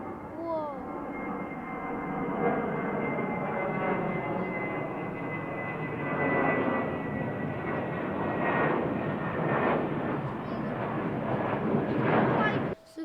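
A fixed-wing airliner going around over Heathrow runway 27R, its engines a loud sustained roar with shifting whine across the whole stretch, while people talk over it nearby.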